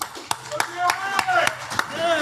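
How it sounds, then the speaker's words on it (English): Scattered claps from an audience at a startup investment summit finale as a finalist comes on stage, sparse, sharp and uneven rather than a full ovation, with voices and talk running underneath. "let's give them a round of applause"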